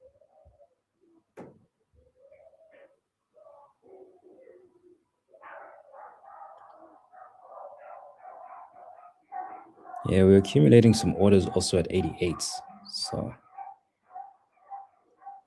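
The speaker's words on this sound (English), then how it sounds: "the dogs are going crazy." Dogs barking in a loud, rapid burst partway through, over someone talking throughout and some softer background calls.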